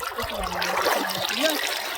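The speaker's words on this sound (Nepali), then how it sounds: "यस्तरी खोला बगिरहेछन् है" Water flows and trickles steadily along the Rapti river while bathers play in it, a continuous close watery wash with faint voices now and then.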